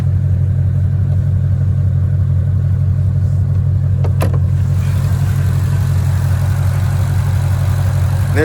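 A 2020 Shelby GT500's 5.2-liter supercharged V8 idling with the hood open, a loud, steady low rumble heard close up throughout, with a brief click partway through.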